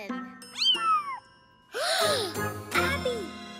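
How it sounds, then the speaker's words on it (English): A cartoon kitten gives several rising and falling meows with gaps between them, with a bright jingling chime mixed in and a voice in the scene. "Kitten!"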